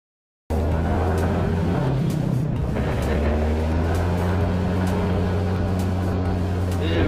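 Yamaha Fazzio scooter with upgraded rollers and a double clutch lining pulls away from a stop, its engine note a steady continuous drone with road and wind noise as it accelerates, close and loud.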